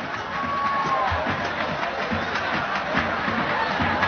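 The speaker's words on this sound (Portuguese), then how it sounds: "E a torcida faz a festa, a torcida do Flamengo, a charanga" Flamengo fans at a 1987 match in the Municipal stadium, a broad, even crowd roar and cheering with festive noise from the stands, filling the clip at a fairly loud, constant level.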